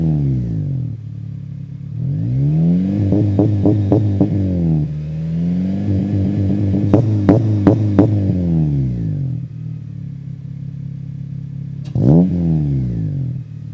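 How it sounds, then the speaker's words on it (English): A Honda Civic Si with a loud aftermarket exhaust revs repeatedly, rising and falling in several bursts with a sharp final blip, close and dominant. "this exhaust is loud"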